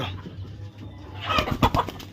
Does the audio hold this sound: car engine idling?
no